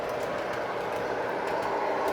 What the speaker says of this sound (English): So now here's an eastbound train